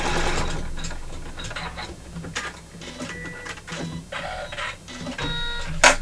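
An embroidery machine stitches a design with rapid mechanical clatter and whirring in uneven bursts, close up, and there is no talking.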